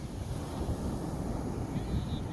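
Wind blows outdoors at a calm favourite spot, buffeting the microphone with loud, continuous rumbling gusts and no spoken words.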